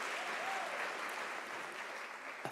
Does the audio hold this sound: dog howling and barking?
no